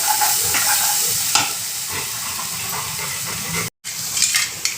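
Barbati masala sautéing in a pan after a little water goes in, a close crackling sizzle with scraping stirs and a brief gap near the end.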